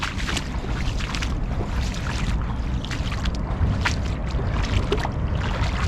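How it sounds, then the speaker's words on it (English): A boat is paddled across a lake, a close, continuous wash of water and wind noise with soft irregular splashes from the strokes. "A bit more paddling."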